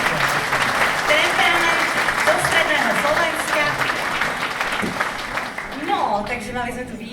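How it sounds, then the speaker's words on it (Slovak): An audience at the Dedina roka 2025 village-of-the-year award ceremony in Budmerice claps in sustained, dense applause that stays loud throughout and tapers slightly at the end, with voices audible beneath it. "ešte jeden potlesk"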